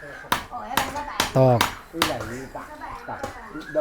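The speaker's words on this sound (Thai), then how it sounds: "ตอกตะปู" Nails are hammered at a building site while a room is being built, with sharp separate strikes at an uneven pace, fairly close, between stretches of talk.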